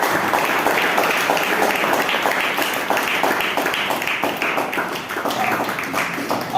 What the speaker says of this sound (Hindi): क्या आप ताली बजा सकते हैं परमेश्वर को?